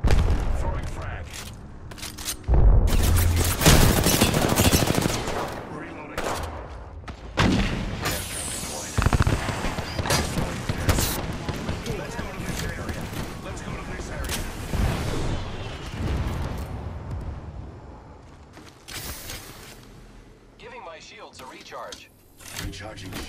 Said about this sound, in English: Tossing thermite. Frag out.